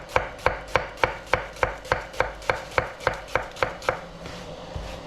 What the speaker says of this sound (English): I'm going to roughly chop the onions